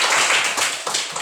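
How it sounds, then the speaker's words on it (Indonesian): Loud, close clapping from a small group during an Indonesian classroom lesson on the constitution's preamble, with several uneven bursts of hand claps and taps and no speech over them. "Iya, tepuk tangan."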